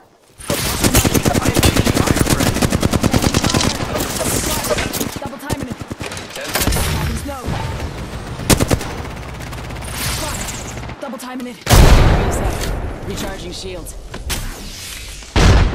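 Rapid automatic gunfire from the video game Apex Legends, loud and sustained bursts with brief pauses, close and dense throughout.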